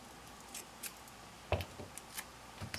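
Scissors snip several times in short, crisp cuts, trimming sticky adhesive material down to size for a buffing pad; close and fairly quiet, with no talking.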